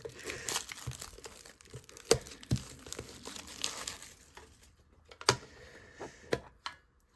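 Plastic wrapping and cardboard of a Pokémon Elite Trainer Box are torn and crinkled open up close, with irregular crackles, sharp rips and light taps in short bursts.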